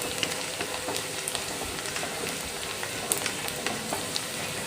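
Spices and asafoetida sizzle and crackle steadily in hot oil while making pirandai thokku, a dense, continuous frying hiss with scattered sharp pops.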